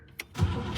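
A 1963 Cadillac engine catches and starts, with a short click, then a rising mechanical roar that settles into a loud, close, steady run.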